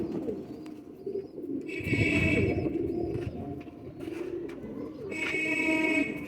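Pakistani fancy pigeons coo in soft, low, rolling calls at close range, with a few faint chirps and hissing background noise; no one speaks.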